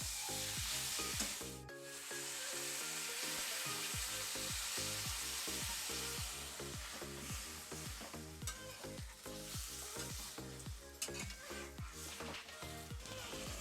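Ginger paste frying and being stirred in a pan for a vegetarian spinach ghonto, a steady close sizzle broken by repeated rhythmic scraping strokes throughout.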